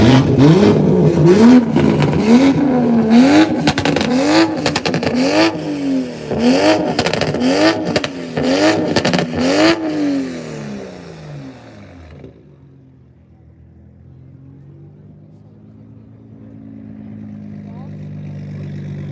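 A red Toyota Supra engine revs repeatedly in rapid bursts at a car meet at Circuit of the Americas, loud and close with crackling pops, then pulls away and fades to a distant rumble.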